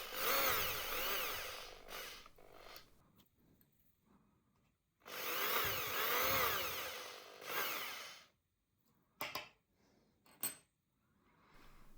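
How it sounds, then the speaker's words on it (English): A 45-degree countersink bit chamfers wooden edges in two sustained whining, rasping passes of about three seconds each, followed by a few brief bursts, with quiet gaps between them and a fairly faint overall level. "I'm chamfering the outer edges, and later the inner edges with a 45-degree countersink bit"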